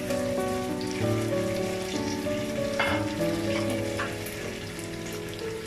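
A paste of ginger, garlic and cumin fries in oil, giving a continuous, fairly loud crackling sizzle with a few sharper spatters over a low hum, and no one talking.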